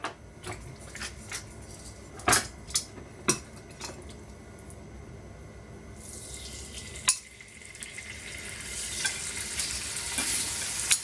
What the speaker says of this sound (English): To fry the pheasant breast in a hot pan, a bit of grapeseed oil